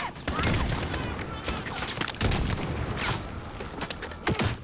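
Rapid gunfire bursts and booming shots ring out in a Call of Duty Modern Warfare campaign battle, loud and close, with repeated volleys across the stretch and brief background voices in the mix.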